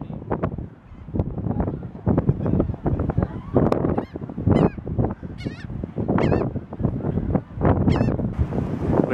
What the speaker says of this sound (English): Get all the birds close to him real quick.